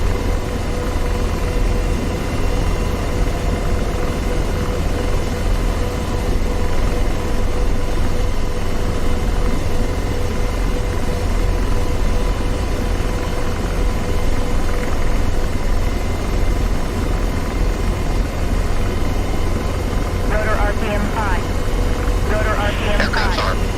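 A helicopter's rotor and turbine engine in the DCS World flight simulator drone steadily and loudly throughout, a constant close whine and thrum, with a voice talking over it near the end.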